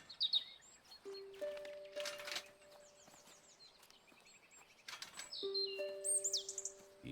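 Birds chirping in the video game Botany Manor: quiet, scattered tweets and chirps over a soft game soundscape, with sustained tones and faint musical notes, and no talking.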